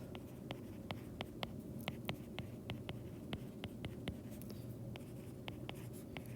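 Chalk or marker strokes on a lecture-hall board come as quick, regular tapping squeaks and scratches, faint and close, in an otherwise quiet room.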